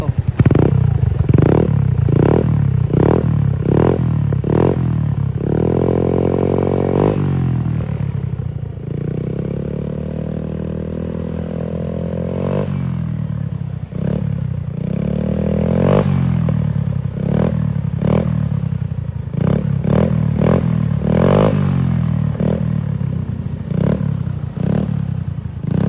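A Yamaha Mio Sporty scooter fitted with a KVIN aftermarket exhaust pipe idles with a loud, close burble, then is revved repeatedly in sharp bursts and a few longer held throttle pulls before dropping back to idle.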